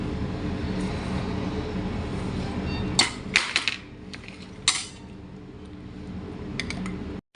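A lunch tiffin box is opened, with a few sharp metallic clicks and clatters of the lid and containers over a low room hum, then quiet.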